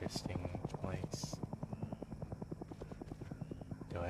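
A helicopter in Hell is Us throbs with a fast, even rotor chop that pulses steadily throughout at moderate distance, with brief voice-like sounds at the edges.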